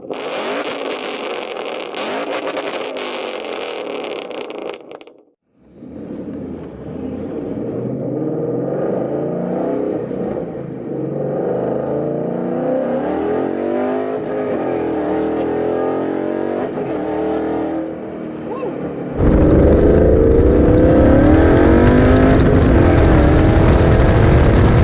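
A 2013 Mustang GT with 3.73 gears revs hard while driving, its engine note climbing repeatedly toward 7,000 RPM in loud sweeping pulls, briefly dropping off before surging again, louder and rougher near the end.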